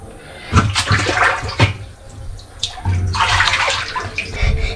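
Water sloshes and splashes in bursts as someone dips into a pool or tub of water during an Eid gathering, with a steady watery wash between the louder surges.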